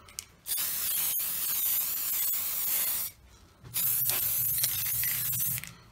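Aerosol spray paint hisses in two bursts onto a Dinky Spitfire 719 diecast model during restoration, a long steady spray, a brief pause, then a second spray close to the can.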